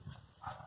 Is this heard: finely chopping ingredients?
no